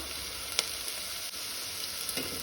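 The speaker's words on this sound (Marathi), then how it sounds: "कांदो तळसून जालो तातून हांव सुंगटां घालता।" Prawns frying in a pan with fried onion give a steady, faint sizzle with a few soft crackles and pops, close by and without talk.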